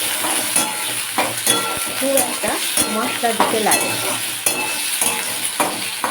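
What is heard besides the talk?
potatoes, beans and eggplant frying in a pan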